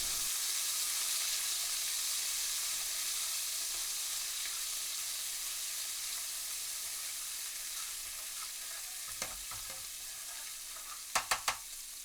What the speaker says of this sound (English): Add in the garlic and ginger paste and stir through continuously for around 30 seconds.